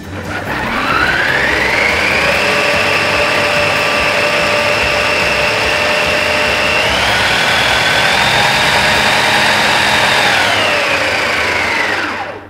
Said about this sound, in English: all of our ingredients in the food processor: chilies, capsicum and garlic, and we just want to puree that up till it's nice and fine.